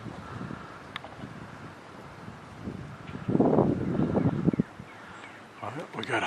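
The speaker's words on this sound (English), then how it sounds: "the wind's definitely there" Wind gusts outdoors at a racing pigeon loft, giving an uneven rumbling buffet that swells in the middle, with someone talking throughout.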